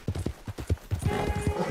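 Horse hooves clip-clop in Red Dead Redemption 2, about a dozen close, steady, evenly spaced strikes with a short soft snort or whinny partway through.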